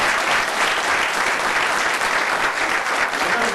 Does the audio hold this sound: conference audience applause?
yes